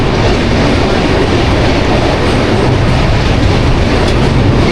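A passenger train on the Kolkata to Agra route rolls into Varanasi, a loud, close, unbroken rumble of wheels on rails with steady clatter and no voices.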